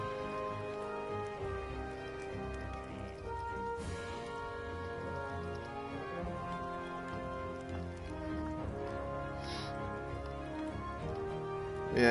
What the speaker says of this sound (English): it is a rainy Sunday morning